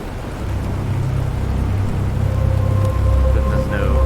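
Steady rain falls across an alien planet in the survival game Planet Crafter, a continuous dense hiss with a low rumble underneath and a thin tonal hum appearing toward the end, no voices.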